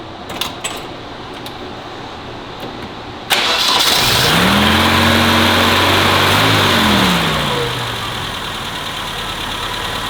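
A BMW 2002 engine, just repaired after misfiring, cranks and catches abruptly, then revs up to a strong, steady idle that gradually settles and quiets, heard up close with no talking.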